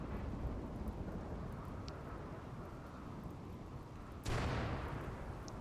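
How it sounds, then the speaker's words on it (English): Rain falling in RimWorld as a soft, steady hiss, with a single sudden thunderclap cracking in near the end and rumbling on, all fairly quiet. "It's a good thing it's raining now."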